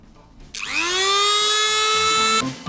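Dremel rotary tool fitted with a cutting disc, spinning up to a loud, steady high-pitched whine that holds for about two seconds and then stops abruptly, close by with no talking.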